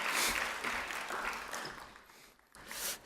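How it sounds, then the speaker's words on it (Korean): Applause at a Hallym University 35th anniversary ceremony, a soft, distant wash of clapping across a hall that thins out midway and then swells briefly again before stopping. "다시 한번 큰 박수를 부탁드립니다."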